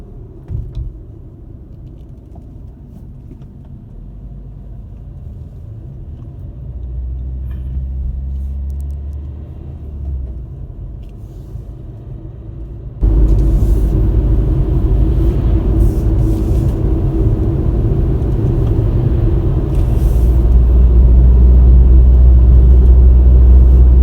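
A car's engine rumbles steadily from inside while someone is learning to drive in Italy, growing louder and heavier about halfway through as it accelerates, with no talk over it.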